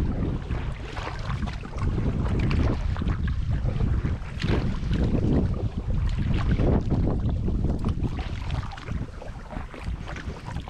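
Steady wind rushes against the microphone on an upstream canoe trip into a slight headwind, a continuous loud buffeting roar with gusty swells and no voices.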